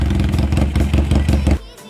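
A Yamaha Scorpio 450cc motorcycle engine revs loudly with a steady, rumbling pulse for over a second, then cuts down abruptly to a quieter idle.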